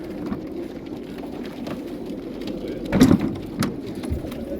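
White homing pigeons shuffle and coo softly inside a transport crate, giving a close, low rustling murmur that is punctuated by a couple of brief louder flutters.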